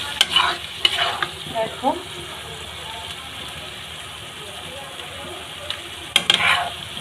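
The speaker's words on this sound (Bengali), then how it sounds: "সুন্দর করে মশলাটা কষিয়ে নিতে হবে এই রান্নাটার জন্য" Spice paste being stir-fried in a pan for a dish of prawns, poppy seed and okra, with steady frying noise and a few scraping stirs near the start and end, and a brief spoken word early on.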